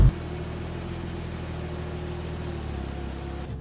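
A Ford Focus RS 500 engine pulls hard under throttle, giving a steady, even drone heard from inside the car at moderate loudness for a few seconds.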